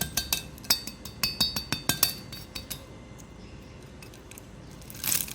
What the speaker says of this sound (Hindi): आवाज़ सुने आप कितनी क्रिस्पी है।